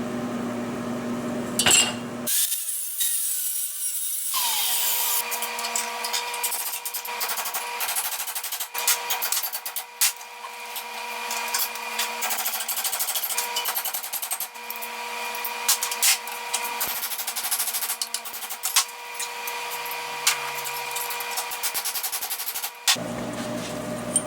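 Two-inch steel tubing is cut with a power tool, giving a loud, continuous grinding whine that runs for about twenty seconds with small shifts in pitch, framed by brief workshop noise at the start and end.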